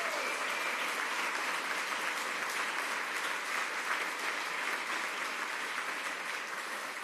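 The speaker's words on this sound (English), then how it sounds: "Big round of applause for my neighbors and friends." A crowd applauds at a ribbon cutting for a community project in Hyde Park, Boston: dense, steady clapping from many hands, loud and continuous throughout with no pauses.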